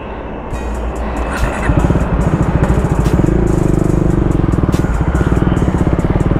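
A KTM Duke 390 motorcycle engine runs loud and close while riding, with a steady rhythmic throb that rises and firms up partway through, and clattering noise over it.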